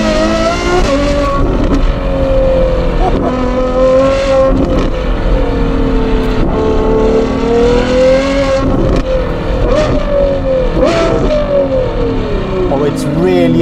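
A Ferrari 812 GTS V12 with a Novitec exhaust drones and bellows at low revs with repeated throttle swells, loud and close, while a voice talks over it.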